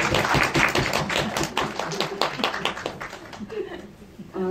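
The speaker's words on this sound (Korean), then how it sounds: "박수 한번 주실래요?" A cinema audience at a Korean film Q&A gives a short burst of clapping, loud and close at first, then thinning and fading, with faint chuckles mixed in and a voice coming in at the end.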